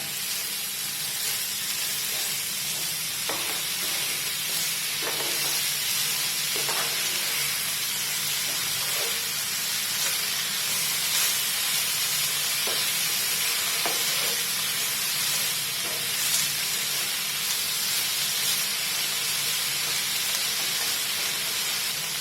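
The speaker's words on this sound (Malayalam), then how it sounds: "ഇതെല്ലാം കൂടെ നമുക്ക് നന്നായിട്ടൊന്ന് മിക്സ് ചെയ്തെടുക്കാം" Steady sizzling and hissing from a hot pan of bitter gourd and jackfruit seeds, with occasional scraping stirs breaking through at irregular intervals; no one speaks.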